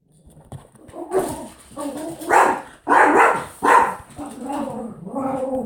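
Indoor dogs bark in bursts from the background, mixed with a voice talking over them, the yaps rising and falling in several loud pulses across the stretch.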